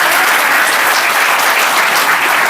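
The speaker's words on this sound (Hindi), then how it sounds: "तालियां बजा दीजिए तो मैं कुछ करूं" An audience at a mushaira poetry recital held by a bar association breaks into loud, dense, continuous clapping that stays even for the whole stretch.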